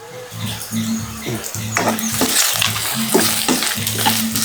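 Cumin seeds, small and large, sizzling with sautéed onions in a pan for a mutton intestine chukka, with a steady hiss and crackle, a few scraping stirs and a low background hum, close up.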